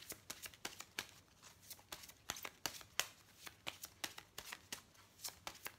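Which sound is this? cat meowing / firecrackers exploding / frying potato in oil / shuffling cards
shuffling cards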